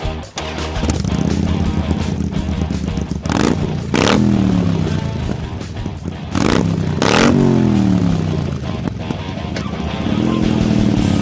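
A Harley-Davidson Sportster fitted with Cobra slip-on aftermarket mufflers idles with a deep, loud rumble and is revved hard three or four times, each blip rising sharply and falling back to idle, close to the bike.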